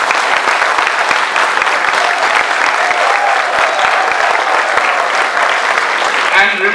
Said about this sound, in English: I believe he deserves a much bigger applause